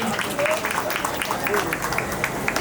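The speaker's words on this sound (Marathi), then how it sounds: "आणि जरा जोरात टाळ्या झाल्या पाहिजे दोघांसाठी" Guests at a first birthday party clap for two game winners. Lively clapping runs throughout under people talking, with scattered sharp claps standing out from the crowd.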